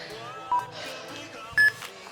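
A workout interval timer gives two short, sharp electronic beeps about a second apart during a home resistance-band full-body session, each brief tone cutting above a busy background of music or voices.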